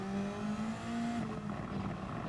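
A Toyota Supra engine drones steadily in a racing video game, holding a high, sustained note as the throttle is worked, with the pitch dipping slightly after a gear change.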